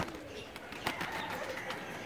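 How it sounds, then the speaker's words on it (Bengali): A male high-flyer pigeon coos amid other birds in a pigeon loft, soft repeated throaty murmurs under a steady background hum with a few sharper clicks. "এটা নর কবুতর"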